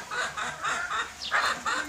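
Native deshi chickens on a small farm give a short series of soft, rhythmic clucks, four or five quick pulses close by, with no voices over them.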